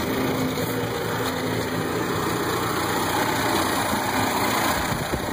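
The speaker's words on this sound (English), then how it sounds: "I don't know how well you can hear the intake of the engine" An engine idles steadily with a continuous, even buzz and hum, close by and unchanging throughout.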